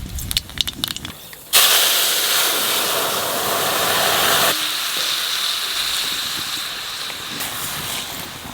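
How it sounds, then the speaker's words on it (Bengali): Black cumin seeds hit hot oil while a hilsa dish is being cooked. A few light clatters come first, then a sudden loud, close sizzle erupts and keeps hissing steadily, easing slightly partway through. "তেলের উপর কটা কালো জিরে দেবো।"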